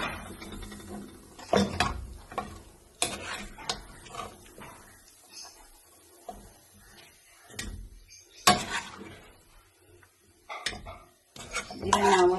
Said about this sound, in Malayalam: ഞാനിത് കുക്കറിലേക്ക് മാറ്റുന്നുണ്ട് വേവാൻ വേണ്ടിയിട്ട്